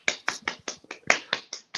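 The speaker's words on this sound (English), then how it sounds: "Little tiny clap." Quick run of about nine light, crisp claps in a steady rhythm, small and close, with no talking.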